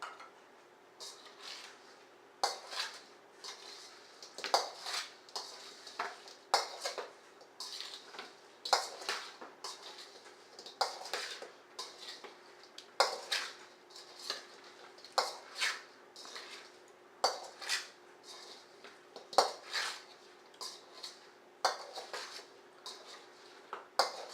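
Chicken wings being tossed and coated in a bowl with a spoon, giving a steady string of light clinks and scrapes of spoon on bowl with soft wet squishes, close and fairly quiet, with no talking.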